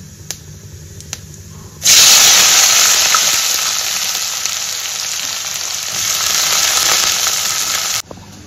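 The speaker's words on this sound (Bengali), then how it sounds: "তো এখানে তেলের মধ্যে দিয়ে দিচ্ছি গোটা জিরা, তো এবারে দিয়ে দেবো ক্যাপসিকাম আর পেঁয়াজ কুচি।" Capsicum and chopped onion hit hot oil already holding whole cumin seeds, bursting into a loud, dense sizzle that holds steady for several seconds before cutting off abruptly, after a few faint clicks.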